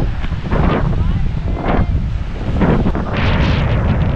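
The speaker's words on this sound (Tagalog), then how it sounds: "Lakas ng hangin. Ito yung alon, no? Lakas." Strong wind buffets the microphone in roaring gusts, with the rush of ocean waves surging underneath at Patungan Beach, Ternate, Cavite.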